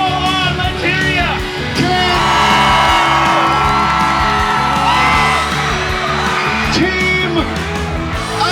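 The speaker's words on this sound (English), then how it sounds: "Cheer them all on, let's hear ya!" A live audience at an arts show cheers and yells for teams building sculptures, with loud whoops and hollers rising and swelling across the whole stretch and no speech over it.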